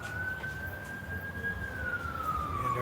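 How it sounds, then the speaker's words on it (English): A single siren wails steadily in the distance, its tone rising slightly and then falling, over a low background rumble. "And there's our sirens."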